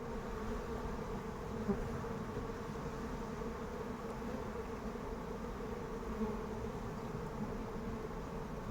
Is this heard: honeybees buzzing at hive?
yes